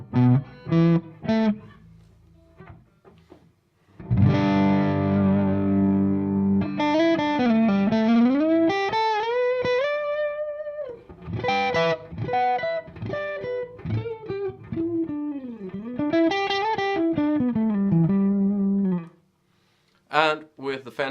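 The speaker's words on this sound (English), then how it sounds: "here's the clean sound" A clean electric guitar plays through an amp with delay pedals in the effects loop, an MXR Carbon Copy and a TC Electronic Mini Flashback. Plucked notes and sustained, bending melodic lines ring out close, with a short pause near the end.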